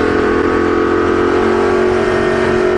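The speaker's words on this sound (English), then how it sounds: "you've got a lot of engine noise, a lot of exhaust noise" A Ducati Diavel motorcycle engine and exhaust drone loudly and steadily at a constant pitch, with a deep rumble close by throughout.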